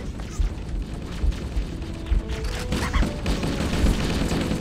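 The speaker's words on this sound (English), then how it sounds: "Oh my god, I love this chain gun." Rapid sustained automatic fire from a chain gun in a modded Halo game, a dense rattling burst with booming hits and clanks throughout, loud and continuous.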